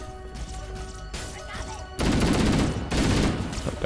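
Grenades explode in Halo: Combat Evolved gameplay, two loud broadband blasts arriving about a second apart over a busy backdrop of in-game noise and sustained weapon fire.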